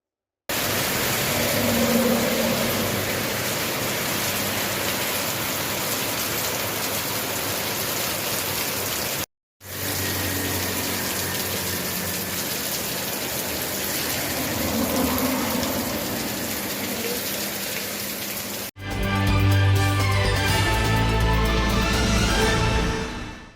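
Heavy rain pours in a steady, dense hiss that barely varies, broken only by a brief cut partway through before the downpour resumes just as loud.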